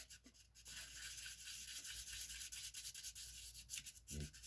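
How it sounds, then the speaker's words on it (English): A handmade jewelry piece is sanded down, giving a faint, continuous close-up rubbing and scratching hiss with small irregular variations and a brief knock near the end. "Now the next thing I'll do is sand it down using my 420."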